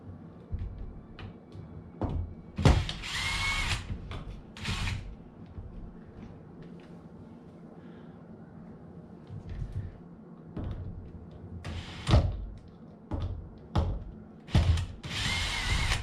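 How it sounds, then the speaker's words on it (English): Screws are backed out of the plastic trim on a 2012-2016 Honda CR-V leather steering wheel with a small power driver, giving short whirring bursts and clicks separated by quiet pauses, close by, with no voices. "here's a couple screws that we're going to start by taking those out"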